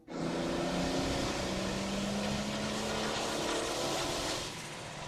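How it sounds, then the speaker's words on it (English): A car engine of roughly 250 horsepower pulls steadily up a steep climb in third gear, a loud continuous drone with rising harmonic tones that hold throughout before easing slightly at the end. "I'm going uphill in 3rd gear. It's a steep climb, but it's funny how it's still pulling."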